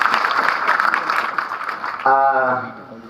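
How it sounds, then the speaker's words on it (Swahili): An audience at a Kisii County community gathering claps, a broad wash of applause that gives way to someone speaking over it. "Makofi kwake jamani"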